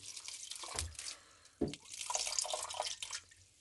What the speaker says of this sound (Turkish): Bu şekilde suyumu koyuyorum.